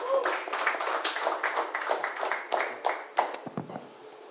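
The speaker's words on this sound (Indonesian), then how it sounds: "tepuk tangan buat Bang Rizal" Dense audience clapping for a speaker at a panel discussion on hajj fund management, a continuous patter that thins and fades toward the end with little talk.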